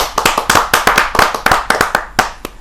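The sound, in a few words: audience clapping welcoming a poet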